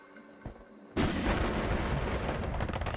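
Sniper enemies fire in the Snowy Depths of the Noita video game: after quiet low game ambience and a faint pop, a sudden loud booming shot erupts and rolls into a sustained rumbling, crackling noise that carries on to the end.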